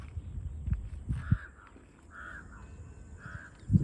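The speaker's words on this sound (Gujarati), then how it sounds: "સામે ધીરો કાગડો બોલે" A crow caws outdoors nearby, giving three short, evenly spaced calls over faint ambient noise with a few soft bumps and rustles.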